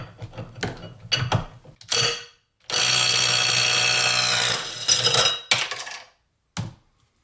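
A Harbor Freight Hercules cordless impact wrench hammers loudly for about three seconds in a sustained rattling burst, preceded and followed by shorter clicks, clanks and brief tool bursts close up.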